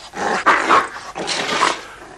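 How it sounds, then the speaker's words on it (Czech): Close, loud dog growling in two rasping bursts separated by a short gap, heard alone without speech. "Třeba by se tvůj pejsek rád zakousl do tohodle."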